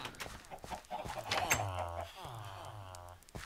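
Minecraft chickens cluck in short, repeated calls over a couple of seconds, close and moderately loud.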